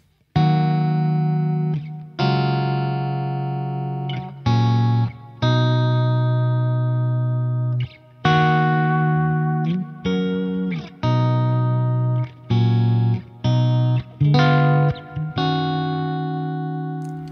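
Electric guitar played with a clean tone through the Neural DSP Fortin Cali Suite with reverb and delay: picked notes and chords ring out one after another, with a smooth sustain and a wet tail, played alone without talk.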